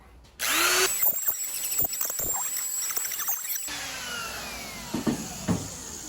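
A power router rounds over the edge of a wooden board for a king-size quilt rack, a loud steady whine that starts abruptly, runs for a few seconds, then cuts off and is followed by quieter workshop noise.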